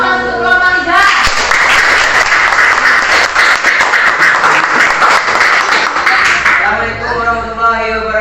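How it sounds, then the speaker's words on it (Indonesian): Applause from a classroom audience for a student presentation group, a dense burst of clapping that swells and holds for several seconds before fading, with a voice talking briefly before and after. "beri aplaus untuk kelompok 3"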